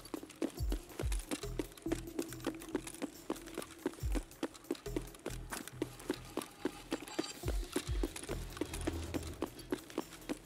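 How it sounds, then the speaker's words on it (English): Footsteps in the video game Escape from Tarkov thud in a steady running rhythm, heavy repeated impacts that sound fairly close and carry on throughout with no talking. "That would explain the footsteps that I'm hearing to my right."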